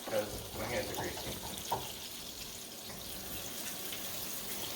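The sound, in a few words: washing greasy hands under a running tap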